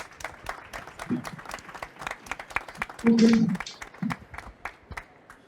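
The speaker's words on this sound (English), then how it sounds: "a big clap to our speakers" Scattered, fairly sparse hand claps from a conference audience thanking speakers at a nature conservation financing session, with brief voices mixed in and a short louder burst midway.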